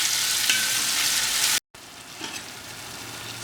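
Onions frying in oil for mutton biryani, a strong close sizzle that breaks off briefly mid-clip and then resumes more softly with a few stirring scrapes.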